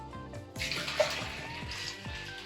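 Water pours steadily into a homebrew kettle while brewing a Belgian saison ale, a close splashing gush that begins abruptly and runs continuously without talk.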